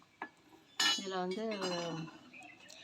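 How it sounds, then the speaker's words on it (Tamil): Heavy old metal ladles knocked together in handling: a sharp clink and a louder metallic clatter near the start, followed by a voice talking. "இது மாதிரி நல்லா ஹெவி வெயிட்டான கரண்டியாக இருக்குது"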